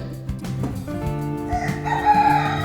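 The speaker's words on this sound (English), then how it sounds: "Rooster." A rooster crows close and loud, a drawn-out harmonic cock-a-doodle-doo rising toward the end, with faint clucking from farm fowl underneath.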